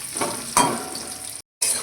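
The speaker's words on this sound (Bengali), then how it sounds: "ডাটা ডাটাগুলোকে দু মিনিট মতো ভেজে নেব" Vegetable stems sizzle and crackle in hot oil in a pan with black cumin seeds, a loud close frying hiss with stirring bursts and a brief cut near the end.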